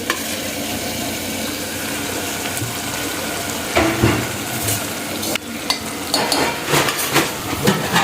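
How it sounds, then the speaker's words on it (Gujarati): Boiled potatoes tossed into a sizzling tomato and onion masala and stirred, a loud steady frying hiss with scraping stir strokes and clatters throughout, no voices. "આર્યો આપણો બટાકો નાખી દઈએ."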